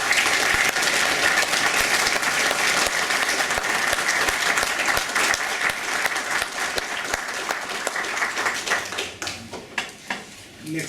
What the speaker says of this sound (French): Je propose qu'on vous applaudisse.